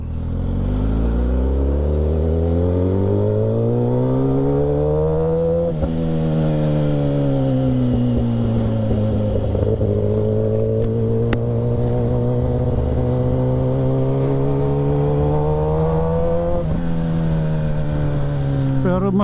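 A Kawasaki ZX10R motorcycle engine with loud aftermarket exhaust drones and revs while riding, pitch rising and falling with throttle, close and continuous, someone talking over it.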